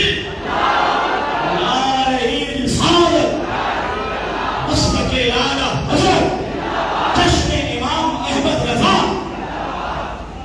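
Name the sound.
crowd chanting in response to Takbir slogan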